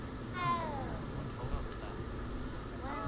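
Cats meowing in the video game Hogwarts Legacy, one drawn-out meow early and another near the end over a low game backdrop.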